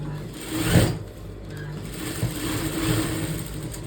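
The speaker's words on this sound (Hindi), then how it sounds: "अभी हम इसको सिल देंगे।" A sewing machine stitches a binding strip onto a blouse, giving a close, continuous mechanical whir that rises and falls slightly in speed throughout.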